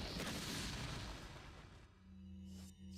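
A grenade explodes in Resident Evil 4 on Wii, a loud broadband blast with a rumbling decay that trails off over about two seconds into a low game hum.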